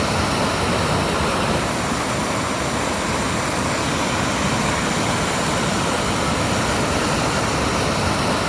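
Whitewater rapids on the Petawawa River, a loud, continuous roar of churning big waves that fills the whole span evenly without a break.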